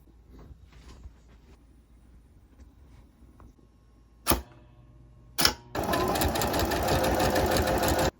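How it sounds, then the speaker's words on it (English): A sewing machine runs a steady straight stitch through dress fabric for a Princess Leia costume, loud and continuous over the last few seconds after a couple of short clicks and quiet handling noise. "So I'm just going to start stitching and see how that goes."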